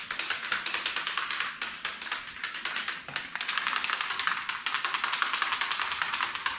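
A spray can of garage door lubricant is shaken hard, its mixing ball rattling in a fast, steady run of loud, close clacks that goes on for several seconds with only a brief pause.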